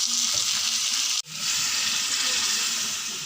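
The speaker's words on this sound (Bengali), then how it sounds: "গরম জল দিয়ে দিলাম।" Hot water poured into a pan of frying chicken and potatoes, a loud continuous hiss and sizzle that cuts out briefly and then surges back, steady and close.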